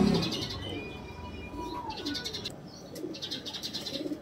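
Pigeons, a golden kalanch pair, coo and chirp close by in soft, repeated bursts with no talk over them.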